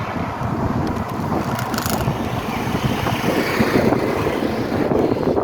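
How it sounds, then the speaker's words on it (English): Strong headwind buffeting the microphone while cycling along Fort Myers Beach, Florida, a loud, continuous roaring rush of wind noise with low gusty thumps and faint surf underneath, no talk. "So this headwind is becoming strong."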